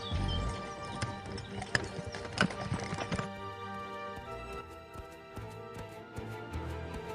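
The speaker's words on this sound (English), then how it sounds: "Puss raced ahead of the royal carriage" Hooves of a horse pulling a royal carriage clip-clop in a quick, even rhythm over a tonal musical backdrop, the steps loud and dense at first, then lighter and more spaced as the sound eases.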